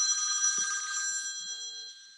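Electronic telephone ringtone trilling steadily for about two seconds during a council meeting, with sustained bright tones fading slightly toward the end and faint low room noise beneath.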